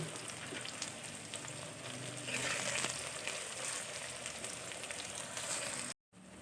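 Chopped onion frying in hot oil with carom seeds crackles in a dense, steady sizzle that swells slightly midway, close and fairly quiet with no voices, cutting off abruptly near the end.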